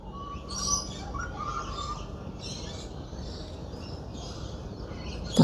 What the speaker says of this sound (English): I've noticed the little birds are pairing up,